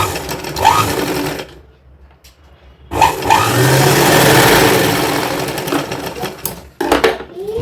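A sewing machine stitches a zip onto a 4-to-5-year-old girl's designer outfit, making a loud, close, steady whirring run of several seconds after short starts and a quiet pause.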